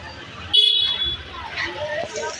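Busy road traffic rumbles with a sharp horn toot rising above it, while voices chatter in the background.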